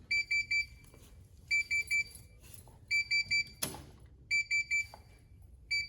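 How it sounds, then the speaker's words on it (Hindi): Electronic alert from a device, repeated groups of three to four high, sharp beeps with pauses between, moderately loud over a quiet room with a brief knock. "ये कोई अलर्ट दे रहा है"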